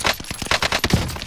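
Rapid bursts of gunfire from the Call of Duty Warzone Pacific video game on the Caldera map, a fast string of sharp, loud shots fired in quick succession over about a second with no talk.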